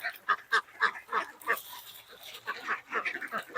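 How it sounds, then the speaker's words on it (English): Repeated nasal honks from a goose, several short calls in a rough rhythm, fairly close with some outdoor background. "Look at the big fat goose walking up"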